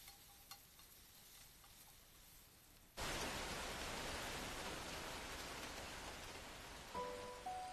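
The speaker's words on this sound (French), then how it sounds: "Vu qu'il pleut" Steady rain begins suddenly and falls as a dense, even hiss. It stays constant from then on, with a faint tonal chime near the end.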